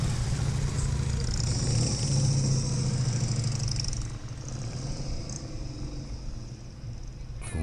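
Motorcycle engine revving steadily as the rider swings through a tight U-turn, loud and close at first, then easing slightly lower and steadier toward the end.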